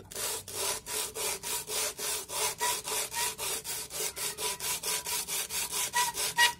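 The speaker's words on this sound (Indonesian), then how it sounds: "gesekkan bagian noken asnya ini di atas kaca tersebut" A motorcycle camshaft is rubbed back and forth on sandpaper laid over glass in a steady, even rhythm, about four strokes per second, close and continuous.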